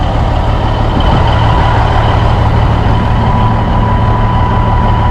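A 1987 Peterbilt 362 truck with a 3406B CAT engine, pulled from a junkyard after 15 years, runs with a loud, steady, deep diesel rumble, close and continuous with no pauses.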